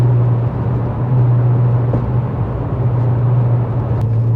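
A Volkswagen Mk4 Golf R32 drives along, its engine a steady, loud low hum droning evenly throughout with road noise and no one speaking.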